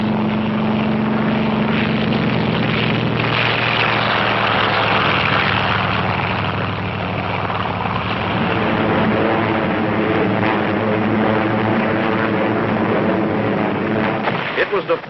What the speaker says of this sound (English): Admiral Mark A. Mitcher's tireless Task Force 58 stepped up its 2-week-old aerial assault on Kyushu